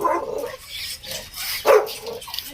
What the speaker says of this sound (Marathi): हा बघा डॉगी पण आहे